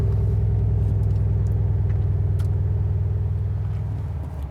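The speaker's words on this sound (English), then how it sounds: "So really now it's quieter after a few seconds, and also the RPMs are lower even in race mode." A 2019 Mercedes-AMG C63 S facelift estate with a V8 settles into idle after startup: a steady, close, deep rumble that eases slightly toward the end, with no voices.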